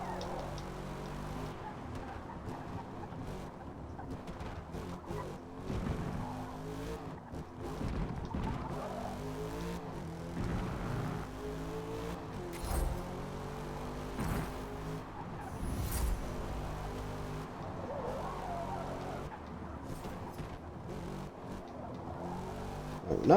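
A Corvette C8 in a racing game drives a wet track, its engine note rising and falling through gear changes and braking, a continuous moderately loud drone with occasional revs and faint tire noise.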